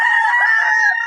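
Chickens in a coop give a brief, loud, close call, a bright sustained squawk that sounds more like a crow than soft clucking, heard alone for about a second.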